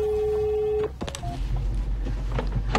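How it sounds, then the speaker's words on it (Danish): Electronic telephone ring, a steady tone that cuts off, then clicks and a low hum with scattered handling noises. "Det ringer."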